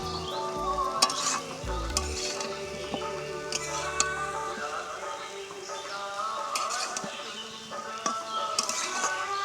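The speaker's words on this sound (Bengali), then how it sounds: "এখন এটা অনবরত নাড়তে হবে, এইভাবে ঝেড়ে ঝেড়ে নাড়তে হবে" Poha stirred and tossed continuously in a hot pan, a close sizzle with frequent utensil ticks and scrapes, a low thud or two near the start.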